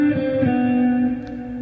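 A distorted electric guitar plays a short sixteenth-note exercise alone, with a few quick picked attacks that ring into a sustained, reverberant tone.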